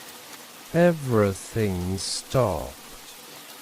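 Steady rain falls as a soft, even hiss beneath a calm voice narrating a story, with the patter running through the pauses between phrases.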